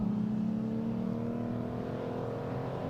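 Historic pre-55 race cars roar past on a circuit's start-finish straight in a last-lap battle, a steady, full engine drone holding throughout with no voices.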